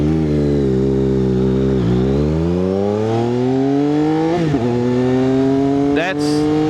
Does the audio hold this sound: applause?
no